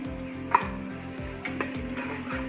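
Curry leaves hit hot oil among browned, reddish fried onions for South Indian sambhar, giving a steady close sizzle broken by regular scraping stirs and a few sharp pops.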